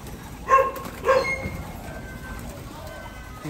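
A flock of pigeons gathered outdoors, with two loud, close coos near the start followed by softer, continuing cooing and bird calls in the background.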